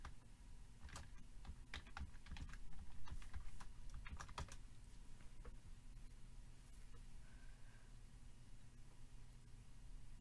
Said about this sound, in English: I'm going to be typing in the password.